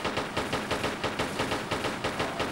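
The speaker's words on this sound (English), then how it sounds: "So I want to get as many shots on him as I can." Pistols fire repeatedly in the video game Tomb Raider 3, a fast, regular stream of sharp shots rattling off in quick succession for the whole stretch, loud and close with no voice over it.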